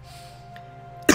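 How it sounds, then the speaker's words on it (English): A person sick for over a week lets out a single sharp cough near the end, close and fairly loud after a quiet stretch with a steady background hum. "Man, I cannot shake this cough."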